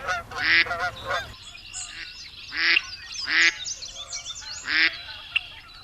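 Canada geese honking near a spring pond, a few loud nasal honks in bursts, with several separate calls spaced across a few seconds and fainter bird calls between them.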